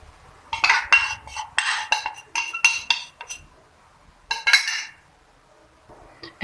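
A spoon clinks and scrapes in rapid bursts against a bowl or pot while stirring cornstarch, sugar and milk together, loud and close with short pauses, ending in a quiet gap.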